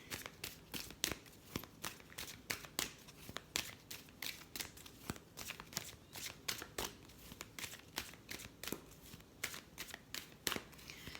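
Oracle advice cards being handled and shuffled, a run of quick papery flicks, riffles and crinkles in an irregular rhythm, close but faint, with no talking.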